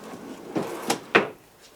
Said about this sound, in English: And another big drawer.